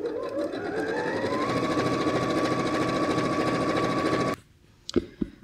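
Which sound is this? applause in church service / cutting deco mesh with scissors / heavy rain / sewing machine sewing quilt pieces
sewing machine sewing quilt pieces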